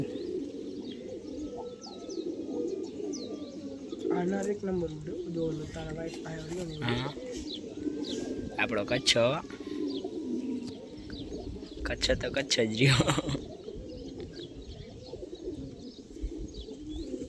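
Bathing pigeons in Kutch keep up a constant low cooing with bursts of flapping and splashing, while someone talks briefly partway through.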